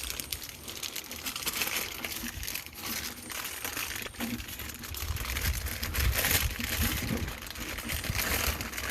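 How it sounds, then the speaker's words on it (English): Sawdust-based oyster mushroom mycelium bag being cut open and crumbled into a bucket, giving steady close crinkling, crunching and rustling of plastic and packed substrate throughout, with no talk. "we're going to cut it open, and we're going to mix it up into a bucket"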